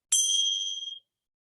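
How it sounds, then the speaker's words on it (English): A bell is struck once to mark the start of rest in a yoga session, giving a single clear, bright ding that rings out with a shimmering tone and fades within about a second, alone in silence. "The sound of the bell ringing out."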